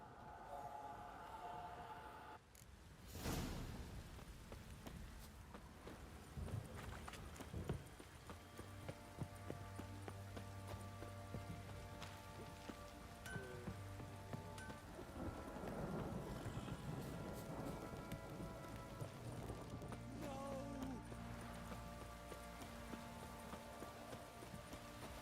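Horse hooves clop at a steady walking rhythm in The Witcher 3, set against a constant wash of rain and wind that stays fairly quiet beneath the footfalls.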